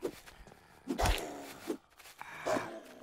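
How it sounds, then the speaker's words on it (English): A dog in the low-poly survival game Drive 4 Survival gives a few short, faint barks and yelps amid scuffling, spaced irregularly over a few seconds. "Are they fighting the dog?"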